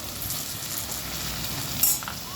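Okra sizzles and fries in a hot pan for a Kathiyawadi kadhi bhindi dish, a steady close crackle and hiss with a brief louder spatter near the end, no voices.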